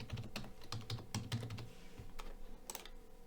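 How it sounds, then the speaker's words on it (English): Keystrokes on a computer keyboard while editing CSS rules, a quick run of fairly close, moderately loud clicks and taps with short pauses and no talking. "type it manually"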